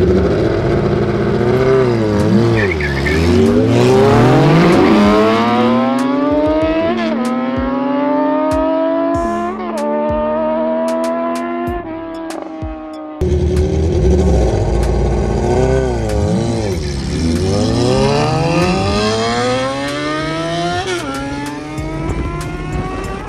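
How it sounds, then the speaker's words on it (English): Engines at the start of a bike race rev hard in rising and falling sweeps, loud and close, with repeated climbs through the gears. "Let's start those engines."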